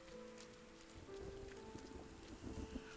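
Rain in the video game RiME, a soft steady patter of drops falling on surfaces, with a low tonal hum and some faint rumbling underneath, quiet throughout.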